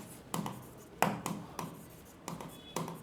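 A pen scratches out a few short strokes in quick bursts, faint and close, with brief pauses between marks in a quiet room.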